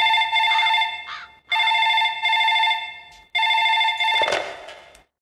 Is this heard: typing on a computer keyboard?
no